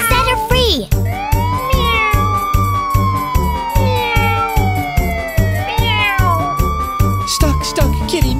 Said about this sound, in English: Stuck, kitty meows.